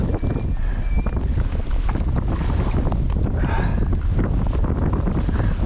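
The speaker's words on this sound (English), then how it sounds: "oh, that wind's bad." Strong gusting wind buffets the microphone outdoors by the water while out wild camping, a loud, continuous rumbling roar with surging gusts and no break throughout.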